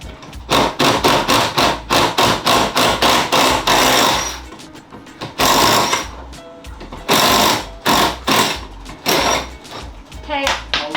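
A power drill runs in repeated loud bursts, each a few seconds long, at a boat yard, with short pauses in between and some voices underneath.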